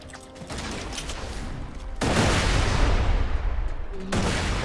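Grenade explosion in the shooter game Borderlands 2, a sustained loud roaring blast with crackling debris that surges midway and tails off, alone without talk.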